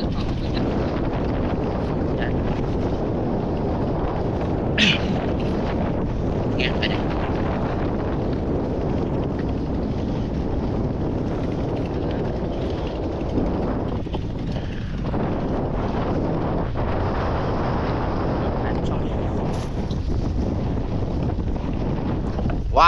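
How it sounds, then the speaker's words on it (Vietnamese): Strong stormy wind roars over a squid fishing boat at sea, a loud constant rumble and buffet against the microphone that stays steady throughout, with faint voices barely showing through. "Gió mà thấy kinh khủng luôn."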